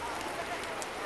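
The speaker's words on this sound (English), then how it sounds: "and it's pouring rain." Heavy pouring rain outside a farm supply store gives a brief, steady hiss of dense drops close by.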